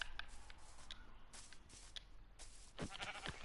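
Sheep bleating in Minecraft: several short, faint bleats scattered across a quiet stretch, spaced irregularly, with soft shuffling between them.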